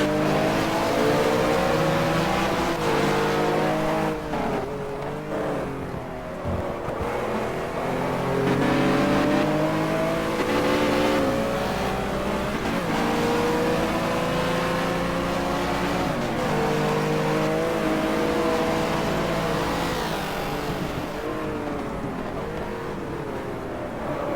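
A race car in the GT Legends video game accelerates hard out of a corner, its engine rising and dropping through repeated gear changes in a loud, continuous, close howl.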